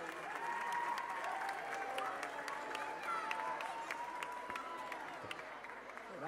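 An ice gala audience in an arena claps in a steady, sustained round of applause, with a faint sustained tone running beneath and scattered cheering mixed in.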